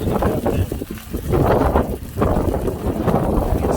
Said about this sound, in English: This wind is no joke.